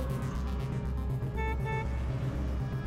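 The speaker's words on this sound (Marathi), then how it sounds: "मोटार गाड्या आणि मालवाहू ट्रक गाड्यांचा मोठा आवाज येत होता।" Cars and goods trucks on a national highway rumble past with a low steady drone while horns toot in short pulsing honks, fairly faint and even throughout.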